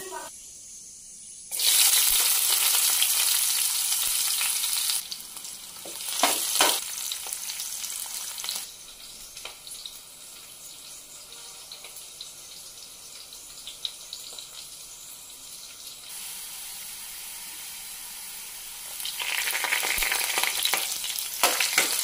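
Spices crackle and sizzle in a few tablespoons of hot oil in a pan while a mutton bones gravy curry is being made; loud bursts of frying come and go, easing off in the middle and surging again at the end.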